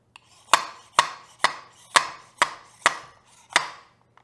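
Repeated hammering drives a KYB fork seal into a Yamaha YZ250 dirt bike fork, seven evenly spaced sharp knocks about half a second apart with a hollow, woody tone, close and alone.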